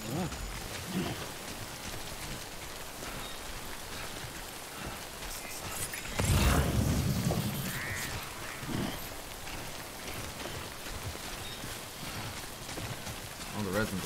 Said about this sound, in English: Fuck this rain!